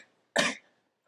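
A person on a podcast imitates a cough with a single sharp, close cough burst, followed by the onset of another at the end.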